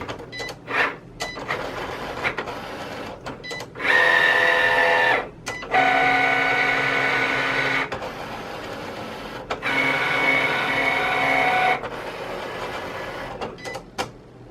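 A Cricut Explore Air cutting machine whirs and buzzes in motorized bursts while writing and cutting in fast mode, its motor pitch rising in quick zooms between short pauses and clicks, close and steady.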